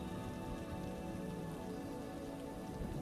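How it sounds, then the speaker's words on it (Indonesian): Heavy, steady rain pours down, a dense continuous hiss of drops on surfaces that stays loud and even throughout, with no voices. "Dan turunlah hujan lebat meliputi bumi, 40 hari,"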